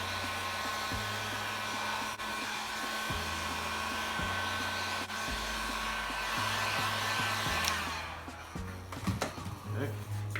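Heat gun warming craft foam for a costume bracer, a steady loud blowing whir that holds throughout, shifting in pitch as it moves, with handling knocks near the end.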